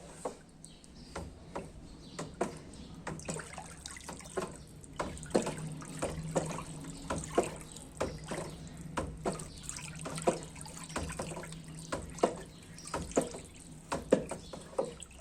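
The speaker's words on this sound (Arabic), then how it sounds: "بعد ما حطينا الريحة هنديها تقليبة كويسة جدا" Homemade fabric softener liquid is stirred in a container, giving rhythmic, close sloshing and swishing strokes with small splashes at a quiet level.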